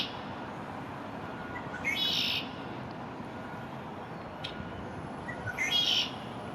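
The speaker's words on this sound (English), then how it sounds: "A red-winged blackbird." A red-winged blackbird sings in a downtown backyard, two brief bright call bursts a few seconds apart, faint against a steady hiss of outdoor background noise.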